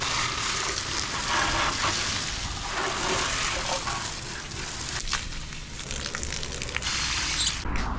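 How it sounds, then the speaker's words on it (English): A motorbike washed by hand with dish soap and a microfiber cloth, a steady close wet hiss of spraying water and sloshing that runs the whole time and eases slightly toward the end. "let's wash the bike"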